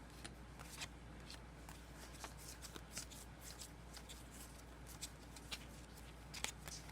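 Red Dragon Inn game cards are flipped and shuffled through by hand, a steady papery rustle with frequent soft snaps and flicks, close and fairly quiet, with no clear talking.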